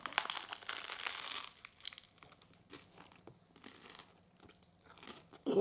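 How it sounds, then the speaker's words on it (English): Loud crunching bites into a crisp sandwich, a dense crackly burst up close followed by quieter chewing and crinkling, no talking. "that's the thing with a crisp sandwich. You get that crunch"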